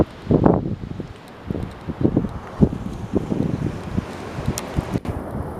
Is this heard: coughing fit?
no